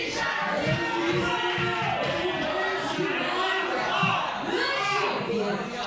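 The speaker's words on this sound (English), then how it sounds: "The crowd getting started early." At a PrideStyle fight event, an arena crowd roars and shouts continuously before the bout while an announcer talks over the noise.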